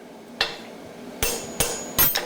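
A power hammer strikes a creaser (fuller) tool held on hot forging stock: four sharp, loud, ringing blows at uneven intervals, the last two close together, over a quiet shop background.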